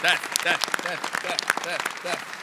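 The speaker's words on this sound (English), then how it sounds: "I wonder if there are any other panels at PAX Unplugged where the audience is just clapping" A panel audience at PAX Unplugged claps in a steady patter while a voice talks over it, the applause continuing as a dense rhythmic layer beneath the speech.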